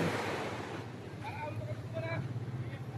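Sea waves wash and rumble steadily at the shore of Caramoan island, a broad noisy roar with wind buffeting the microphone and a voice speaking over it.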